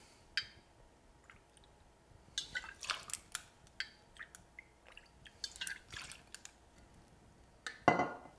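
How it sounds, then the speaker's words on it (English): Bourbon poured into a glass over ice for a raspberry bourbon smash, quiet trickles with small clinks and ice crackles, ending in a louder clink. "add 2 ounces of your favorite bourbon"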